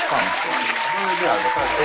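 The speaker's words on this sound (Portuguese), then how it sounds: "Palmas." A small group claps during a Brazilian podcast, brief and fairly close, with talking running over and through the clapping.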